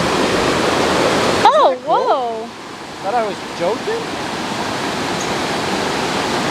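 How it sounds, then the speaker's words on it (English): A waterfall where two streams join in the hills of Jardín, Colombia, roars as a steady, loud rush of water throughout, while a person's voice exclaims briefly over it partway through. "It's two streams coming into one."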